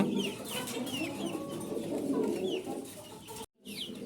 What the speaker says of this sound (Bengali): পনেরো পিস অরিজিনাল দেশি মুরগির বাচ্চা বয়স আট দিন